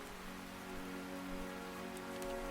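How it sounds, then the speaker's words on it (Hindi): Heavy rain pours steadily on a forest road in a cartoon story, a dense, continuous hiss of falling water that stays constant throughout with no voices. "अचानक पिछले महीने की तरह ही मूसलाधार बारिश और कड़ाके की ठंड शुरू हो गई।"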